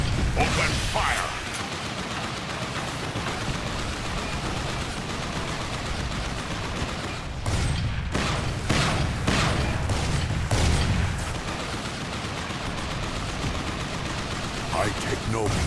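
Sustained gunfire and mechanical weapon sounds from the Transformers: Revenge of the Fallen video game on PC, with steady dense battle noise throughout and sharper bursts of blasts in the middle and near the end.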